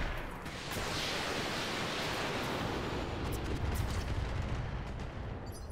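Weapons fire from mechs in the RogueTech mod of the BattleTech video game: a dense, sustained roar of blasts and rumbling barrage filling the whole stretch, loud and continuous with no talk.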